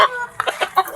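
A hen clucks in a few short, close bursts, loud and distinct, with no one speaking.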